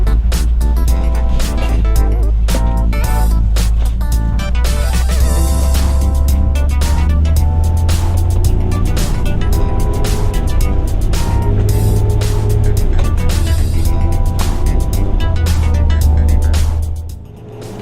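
A vehicle cruising on US 20 highway on the ride north to Henry's Lake, with a steady loud engine and road rumble throughout and a slight drop at the end.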